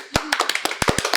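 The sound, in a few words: applause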